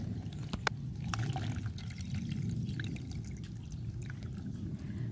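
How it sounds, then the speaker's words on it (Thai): Liquid from a plant remedy soaked overnight is strained, and the water pours and trickles steadily through with small splashes and drips, close and moderately loud. "เราก็จะมากรองเอาแต่น้ำเลยค่ะ"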